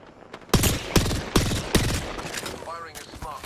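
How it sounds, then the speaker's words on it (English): Smart bullet weapon firing in a video game: four sharp, loud shots at roughly even intervals, followed by fainter electronic chirps. "Firing a smart bullet."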